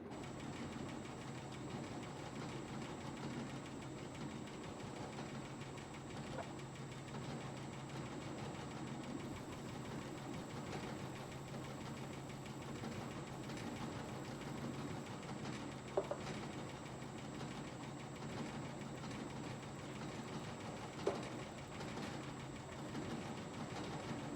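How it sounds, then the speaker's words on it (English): A Screen Table Pro sifting machine runs steadily, separating fines from worms, rocks and overs, giving a continuous mechanical rumble and rattle with a few brief knocks, no voices over it. "So let's give it a spin."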